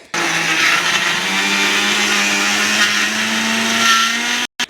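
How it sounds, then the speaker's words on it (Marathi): A kitchen mixer grinder whirs loudly and continuously while grinding roasted red peanuts into a spicy chutney, holding a steady high motor whine before cutting off abruptly near the end. "स्विच ऑन करूनच करायचं आहे हे काम मिक्सरचं"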